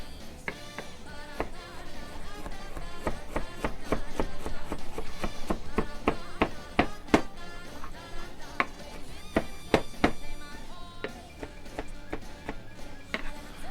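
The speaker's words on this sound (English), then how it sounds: "that's cut a quarter of an onion" A knife chops a quarter of an onion on a board in quick, irregular taps, close and clear, with a brief pause in the middle before the chopping picks up again.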